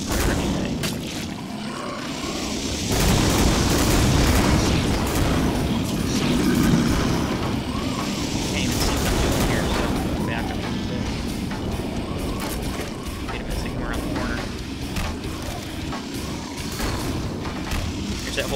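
Killing Floor video game combat: monster specimens hurling fireballs amid repeated booming explosions, a dense, loud and sustained rumble of blasts and impacts with no speech over it.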